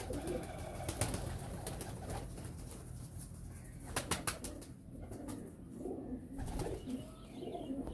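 Golden pigeons cooing in a loft: soft, repeated low coos from nearby birds, with a few louder bursts and some faint background noise, and no talking.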